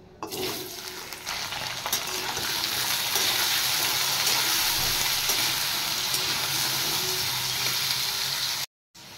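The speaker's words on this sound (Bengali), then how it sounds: "তেল গরম হয়ে গেছে, আলুগুলো ভেজে নিই।" Cut potatoes fry in hot oil in a kadai, a loud, steady crackling sizzle that swells after the first moments and holds evenly before cutting out briefly near the end.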